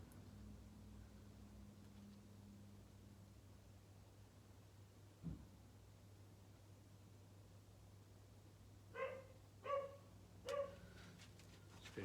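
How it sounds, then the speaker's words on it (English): A neighbouring dog next door barks a few times from a distance, faint yips over a steady background hum on a mild day in Suffolk. "next door's dog."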